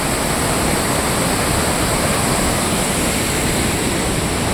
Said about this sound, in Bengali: অনবরত জল বয়েই যাচ্ছে পড়েই যাচ্ছে।